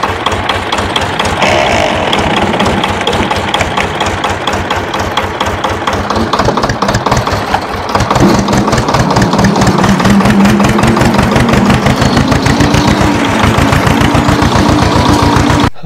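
A tractor engine runs close by with a fast, regular chugging pulse, its pitch and load lifting slightly about halfway through and then holding steady.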